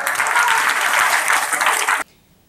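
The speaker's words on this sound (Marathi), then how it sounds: "जोरदार टाळ्या वाजवा." A crowd at a National Consumer Day awareness gathering breaks into loud, dense clapping that holds steady for about two seconds and then stops abruptly.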